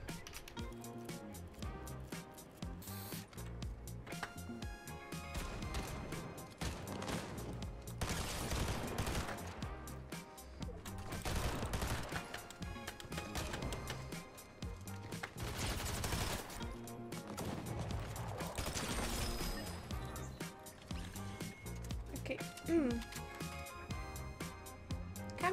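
Gunfire from a Fortnite match, with dense bursts of shots layered over busy game music and effects, running steadily throughout at a moderate level.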